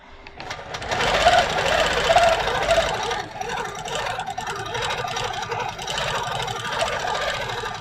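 Longarm quilting machine stitching free motion at high speed, a loud, close, continuous mechanical whir with fast rapid knocking that holds steady throughout.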